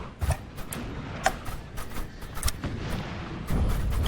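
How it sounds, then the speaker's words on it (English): Cannon fire during a 4v4 battle in Napoleon Total War 3, a series of sharp booms and cracks spread irregularly over the battlefield, some near and some distant, with a heavier roll near the end. "the cannon has been hitting them"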